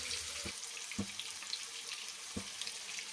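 Fish pieces coated in masala frying in a pan give a quiet, steady sizzle with a few soft knocks, heard close with no talking.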